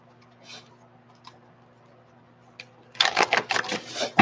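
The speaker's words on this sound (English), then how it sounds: "Let me shuffle this some more." Tarot cards are shuffled by hand: a few faint, scattered ticks at first, then a burst of loud, close, fast riffling that runs to the end.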